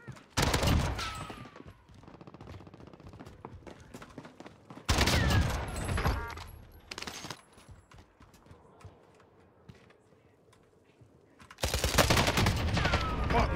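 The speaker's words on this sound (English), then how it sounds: "He's in the gas and shooting me." Bursts of rapid video game gunfire from Call of Duty Cold War Warzone come in three loud volleys separated by quieter game ambience and faint movement sounds.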